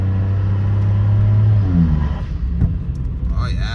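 A turbocharged V4 car engine revs loudly up close, climbing then dropping off after a couple of seconds into a lumpy rumble, with a voice speaking briefly near the end.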